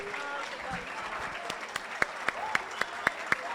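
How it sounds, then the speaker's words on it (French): Graduation ceremony audience applauding a fourth-year electromechanical engineering graduate: steady, moderate clapping from a crowd with a few sharper individual claps standing out, heard at a slight distance. "On l'applaudit comme il se doit"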